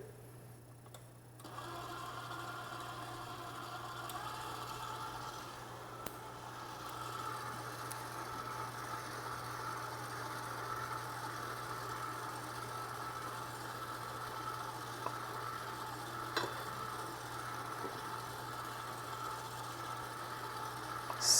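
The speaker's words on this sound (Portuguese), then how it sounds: "eu vou ligar minha batedeira, eu vou adicionando os elementos secos e finalizar essa mistura" An electric stand mixer beats white sponge cake batter with a steady, continuous motor whir and hum, moderately quiet and unbroken throughout, with only faint occasional clicks and no talking.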